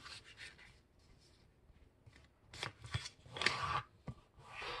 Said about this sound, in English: fold both sides of the paper to the center crease